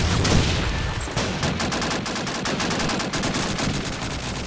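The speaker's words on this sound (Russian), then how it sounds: "Выстрел!" Dense rapid gunfire in the multiplayer video game Call of Duty 2, loud and continuous bursts of automatic fire layered with overlapping shots, with no talk.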